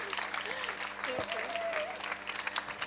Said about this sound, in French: je vous demande d'applaudir Élise Mareuil pour une petite